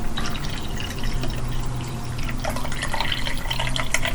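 Leftover soda is poured from a cup into a container for a terrarium, a steady close trickle and splash of liquid running for several seconds with no talking.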